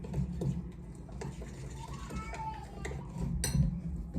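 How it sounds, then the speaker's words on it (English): Grandchildren chatter and play faintly in the background of a home kitchen, their voices mixed with light clinks and kitchen noises throughout. "grandbabies are over, so you may hear them in the background"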